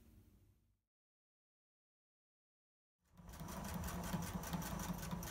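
Sewing machine stitching the flat felled seam of a banded tablecloth: a brief run, then nearly three seconds of silence, then steady close rapid stitching that continues to the end.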